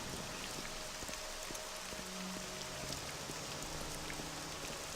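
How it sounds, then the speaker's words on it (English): Steady, dense rainfall hiss in The Elder Scrolls: Legacy, a continuous wash of drops pattering on surfaces with faint tonal game sounds beneath, even and unbroken throughout with no talking. "It's raining. Papers will get all wet and then they won't be legible."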